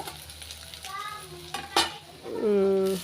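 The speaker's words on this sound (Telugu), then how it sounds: "ఈ పక్క ఏమో కరేపాకు పొడికి వేయించుకుంటూ ఉన్నాను" Curry leaves frying in a pan for a spice powder: light sizzling with stirring scrapes and a few sharp clinks of a utensil against the pan, swelling into a louder, steady sizzle near the end.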